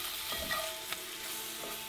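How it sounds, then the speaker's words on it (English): Spinach and garlic saute in olive oil in a cast iron pan, producing a soft, even sizzle with a few faint stirring taps, quiet and with nobody talking. "I just lightly sauteed the spinach."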